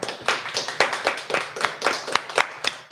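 Scattered hand claps led by a chef in a hat ring out at a radio show, a small group clapping in a loose uneven rhythm, close and fairly light.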